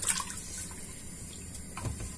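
Cold tap water pours into a cooking pot with meat for a Moroccan dish, a steady close splashing and trickling wash lasting a couple of seconds with no talk.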